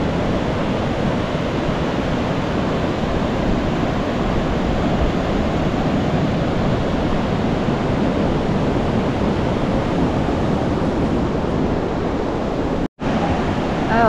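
Strong sea waves roll in at high tide on a beach near Tanza, Cavite, making a loud, steady roar of surf that is close and unbroken apart from one brief cut near the end.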